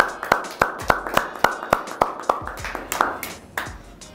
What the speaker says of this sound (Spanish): Entonces, un aplauso.